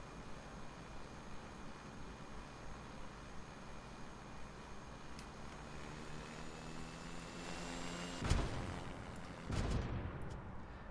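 Helicopter rotor and engine at low throttle in the SimplePlanes video game, a steady droning hum with a rising whine, then sharp crashing bursts near the end.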